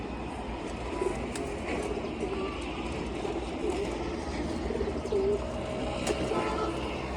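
Pigeons in a loft coo softly amid a steady, noisy background hum, with faint low warbling calls scattered throughout and occasional clicks and rustles.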